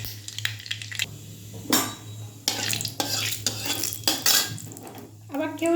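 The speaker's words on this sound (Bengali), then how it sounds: "এটা কিন্তু কালো সর্ষে ফোড়ন দিলাম বন্ধুরা।" Black mustard seeds spatter and crackle in hot oil in a kitchen pan, with loud clanks of a metal spoon against the pan and bursts of sizzling between stirs.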